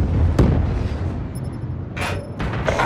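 Hellstorm missile strikes hit in a video game match, a sharp boom early on followed by rumbling, crackling blasts and later bursts, loud and dense with little pause.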